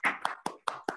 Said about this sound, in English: one more round of applause for Yaffa and Lois